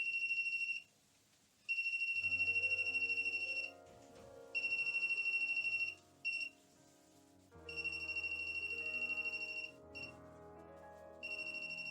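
A voltage tester rings near a Magrav plasma generator, giving a high electronic beeping tone in repeated bursts that cut in and out, over a faint low hum.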